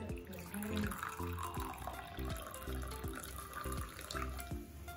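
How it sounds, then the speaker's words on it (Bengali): Hot water pours faintly and steadily into a glass while a Herbalife drink is being mixed, a soft continuous splashing stream heard close up but quiet. "তো এটা আমরা খানিকটা এতে গরম জল দিলাম"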